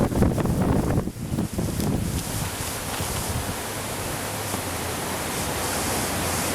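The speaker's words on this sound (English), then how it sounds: "sorry for the wind. It's really windy today" Strong gusts buffet the microphone outdoors on a windy May day in Texas, loud rumbling bursts at first that settle into a steady windy roar with rustling.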